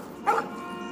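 A single short dog bark or yip from the Life Is Strange video game, brief and moderately near against a steady low ambient background, with no speech.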